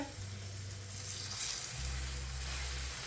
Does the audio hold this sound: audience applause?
no